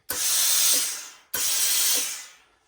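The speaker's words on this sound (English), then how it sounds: "Bit of steam just to give it a little bit of encouragement to go into that shape." Two loud bursts of steam hiss onto a Borsalino Traveller fur felt hat during restoration. Each blast lasts about a second and tapers off, with a short gap between them.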